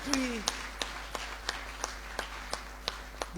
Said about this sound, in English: Please, a big round of applause to these